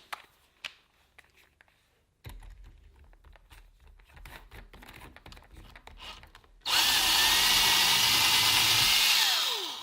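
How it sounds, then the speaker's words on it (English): Cordless drill run in reverse to back a screw out of a Manfrotto 546B tripod spreader, with faint scraping and clicks first, then a loud, steady motor whine for the last few seconds. "Just make sure your drill's in reverse"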